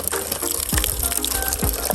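Water gushes steadily from a farm's own water source outdoors, a loud continuous splashing flow with some short bubbling surges, no talk over it.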